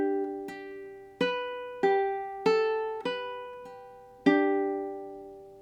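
A ukulele plays one measure of a song intro as six plucked notes and chords, each ringing and fading before the next. The playing is close, clear and solo, with no voice.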